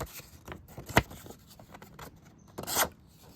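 A blade of an affordable double-edged OTF auto dagger in 440 stainless steel cuts through a sheet of paper in a sharpness test, with two short crisp slicing rasps close by, the second longer.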